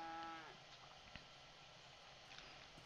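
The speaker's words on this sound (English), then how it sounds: "Let's tip the cow." A cow in The Sims 3 gives a short, low moo as it is tipped, loud at the very start, then fades into quiet game ambience with a few faint clicks.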